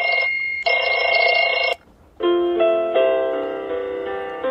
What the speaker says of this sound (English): An old school alarm.